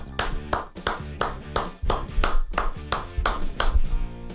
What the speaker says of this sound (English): a Wimbledon tennis clap